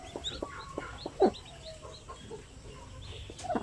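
Basilan native chickens on a Filipino poultry farm with newly hatched chicks cluck softly in scattered short calls, with one or two louder squawks, against faint background farmyard noise.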